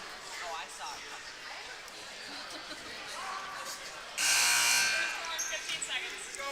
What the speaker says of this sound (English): 15-second buzzer, halfway.